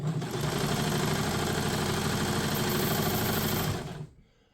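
A Kenmore 117.589 sewing machine runs steadily at speed, a loud, close, even mechanical whir and rapid stitching chatter that stops abruptly near the end.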